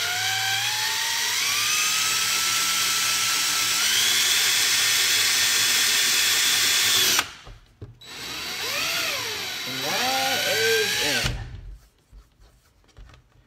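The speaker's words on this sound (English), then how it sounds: "And just drill straight in." A power drill bores into a wooden cabinet for bar pull hardware: a loud continuous whine for about seven seconds, a brief pause, then shorter bursts with rising and falling pitch as the trigger is worked, ending in quiet.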